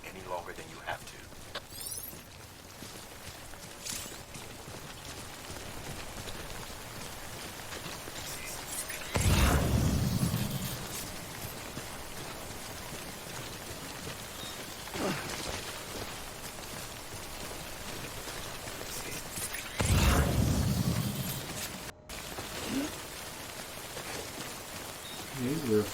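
Rain (timefall) in the Death Stranding video game, a steady hiss of falling drops on surfaces with a few louder rumbling bursts, heard under someone talking.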